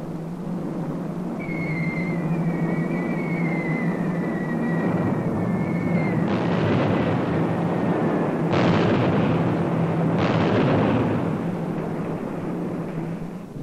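Archival war-film sound of German Luftwaffe aircraft bombing Spanish cities: a steady, dense roar of engines and rumbling blasts with whistling tones early on and several sharper, louder explosive bursts later, continuous and loud throughout.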